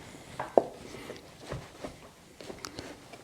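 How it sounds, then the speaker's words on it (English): A knife slices mushrooms on a cutting board in a kitchen, giving a few faint, irregular soft taps and thuds, one sharper knock early on, with no talking. "We're going to just slice these"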